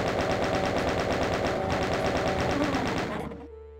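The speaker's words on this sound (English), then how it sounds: "Let's just chain gun him." The chaingun in the video game Ultimate Doom fires a loud, steady burst of rapid gunfire that runs for about three seconds and then cuts off abruptly.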